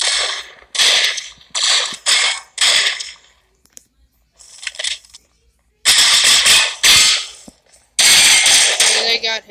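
Revolver firing in a first-person shooter video game, several sharp bursts of gunfire separated by pauses and softer mechanical clicks, loud and close.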